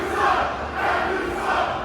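A wrestling crowd at a live indoor show roars and shouts angrily at the referee, a loud sustained swell of many voices rising and falling in waves.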